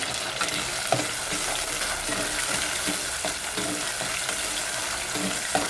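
Chopped tomato sautéing in a pan, a loud continuous sizzle with scraping and clinking as it is stirred, close and steady throughout.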